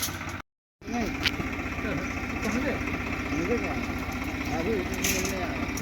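Tractor engine idling as it arrives to unload sand at a rural hermitage, a steady low rumbling chug with continuous vibration throughout, briefly cut by a short gap of silence near the start.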